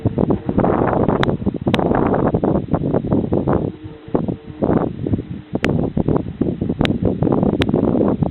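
Wind at the top of Chilkoot Pass roars and buffets loudly and close in uneven gusts, with rustling and a few sharp ticks over a strange, unexplained-sounding rush.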